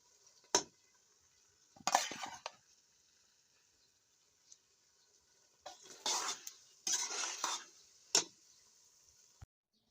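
Half-fried okra and potato pieces stirred in a pan for a Pakistani bhindi aloo curry. Several short, close spoon scrapes and clatters come in uneven bursts, with a faint sizzle between them. The sound is quiet overall.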